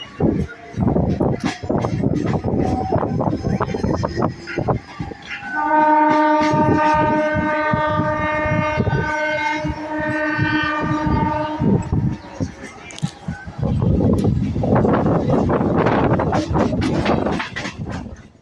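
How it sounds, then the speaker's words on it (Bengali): A passenger train pulls away after a long halt, its loud sustained horn sounding for several seconds amid heavy rumbling and clanking of the cars, heard from close by on board. "এতক্ষণে গাড়িটা ছাড়লো।"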